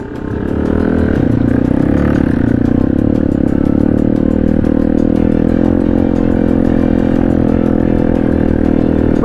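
A motorcycle engine on a rural mountain road runs loud and close in a steady, sustained rev after a brief rise at the start, with a constant throbbing drone.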